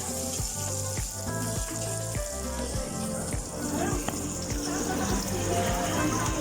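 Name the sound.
green chili sautéing (ginisa) in a pan, papaitang kambing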